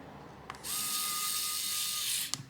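An electric screwdriver from a 68-in-1 set drives a screw, giving a steady high whirring buzz for about a second and a half, bracketed by short clicks, quiet and close with no talk.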